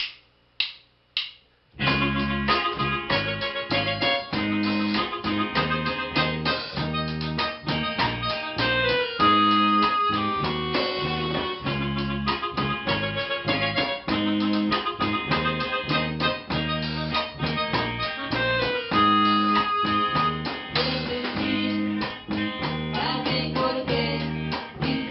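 Bass, keyboards, electric guitar and drums from a live band play a steady full-band groove at a night gig in Santiago, opening with a few sharp drum hits and then driving on with dense, punchy rhythm throughout.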